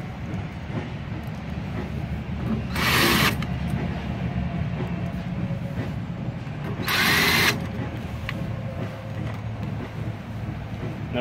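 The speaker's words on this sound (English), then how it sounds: "Resecure your control panel with all four screws." A power drill drives screws into the control panel of an Endurance 50F unit, two short whirring bursts a few seconds apart over a steady low background hum.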